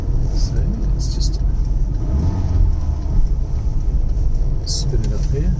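A 1970 Lancia Fulvia Berlina engine labours up a steep hill in first gear, a steady close rumbling drone under road noise, with a few short higher squeaks along the way.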